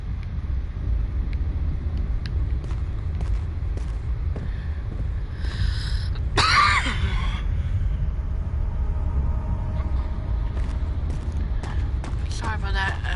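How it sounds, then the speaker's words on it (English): A single loud, close cough bursts out midway over a low rumbling background, with faint voice sounds scattered before and after it. "Sorry about that cough"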